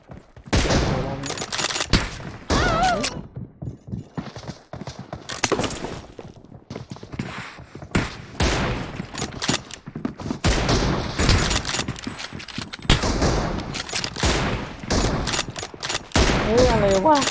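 Rapid gunfire in the mobile battle-royale game PUBG Mobile, with dense bursts of shots crowding most of the stretch and a few short pauses, loud and close.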